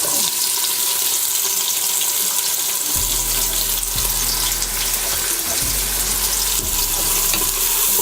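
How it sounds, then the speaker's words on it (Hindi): Sliced onions dropped into half a cup of hot oil for daal mash start a steady, loud sizzle a few seconds in, a broadband frying hiss with a low bubbling rumble and occasional stirring clicks, no voices. "अब हम इसमें शामिल करेंगे प्याज"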